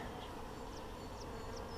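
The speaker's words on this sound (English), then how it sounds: "Now there's a lot of bees in this hive right here" Honey bees buzzing inside a crowded hive, a dense continuous hum filling the clip at close range, with no talking.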